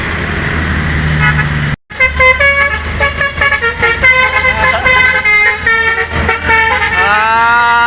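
Telolet horns on a medium Indonesian intercity bus play a long, loud, multi-tone musical melody near the listener, after a brief cutoff, over a steady engine and traffic rumble.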